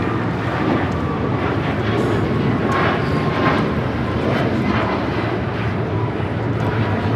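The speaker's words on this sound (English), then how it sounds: "That is Alaska Airlines 1315 taking off to Portland on the MAX 9." An Alaska Airlines Boeing 737 MAX 9 takes off at LAX, its jet engines giving a loud, sustained roar that holds steady throughout, with no talking over it.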